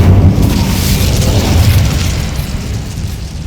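A loud fiery blast from the Incendio spell in Hogwarts Legacy booms out at once and then trails off into a rushing, crackling roar.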